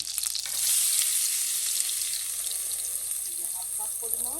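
Chopped onion sizzling and frying in oil for a singara filling, a steady hiss with faint stirring and watery crackle, fairly close.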